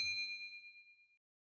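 A bright notification bell chime sounds once alone, with a sharp metallic strike whose clear ringing tones fade out over about a second.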